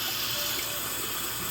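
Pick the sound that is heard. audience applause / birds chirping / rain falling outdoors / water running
water running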